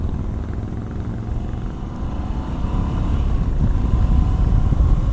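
A 2020 Moto Guzzi V85 TT adventure motorcycle under way, heard as a steady low engine drone mixed with wind rush that grows louder partway through, continuous and close.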